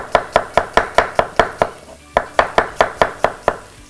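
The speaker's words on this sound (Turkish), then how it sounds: "Jülyen jülyen kesiyorum." Onions are sliced julienne with a knife on a cutting board, giving a rapid run of sharp close chopping taps that pauses briefly midway and then resumes at the same brisk pace.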